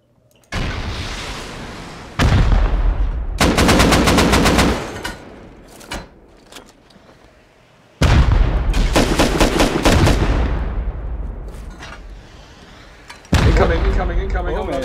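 Heavy bursts of gunfire from a turret atop a tower during a raid in the video game Obelisk, loud sustained volleys separated by short pauses and scattered single shots, with voices talking over the shooting.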